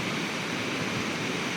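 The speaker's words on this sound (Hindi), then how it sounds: "ये झरना" A roadside waterfall in Nubra Valley, Ladakh roars as a constant, loud, dense rush of falling water, steady and unbroken with no voices.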